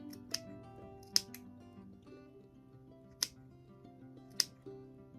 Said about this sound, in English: just go and you're clipping all the way along